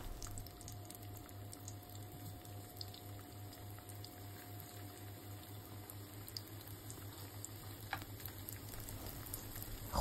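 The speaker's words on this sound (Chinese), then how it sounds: "油热后加入土豆片儿，煎一下" Potato slices frying in oil in a pan over medium-low heat give a soft, steady sizzle with light patter, faint and continuous with no talking.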